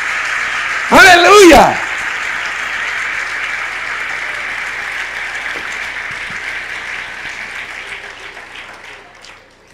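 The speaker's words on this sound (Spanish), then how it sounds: "Démosle un aplauso al Señor" A church congregation breaks into sustained applause that holds steady and slowly fades over several seconds, opening with a short shouted exclamation from the preacher.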